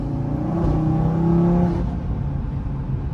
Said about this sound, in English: That was just kind of part throttle there, but sounds really good.